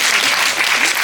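Dense, steady applause from a cinema audience at a post-screening Q&A for the film Virus in a Yongsan CGV theater, a thick wash of many hands clapping at once, loud and close for about a second with no talk.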